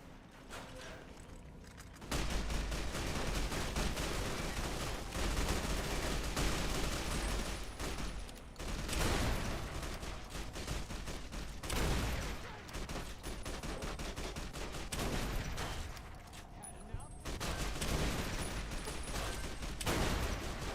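Repeated bursts of gunfire from the video game Fallout: New Vegas, loud and dense, with sustained volleys broken by brief pauses across the whole stretch.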